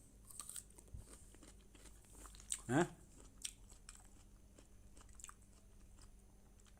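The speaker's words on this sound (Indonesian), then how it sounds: "gigit buah dulu" Someone bites into a piece of fruit, one short crisp crunch close to the mic followed by faint chewing, in an otherwise quiet room with a brief spoken interjection.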